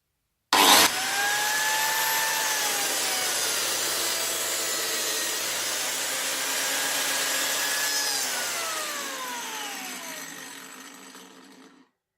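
A biscuit joiner (lamelleuse) starts abruptly and plunges into a wooden board in a workshop, its steady high motor whine dipping and rising under the cut, then spinning down and fading out over the last few seconds.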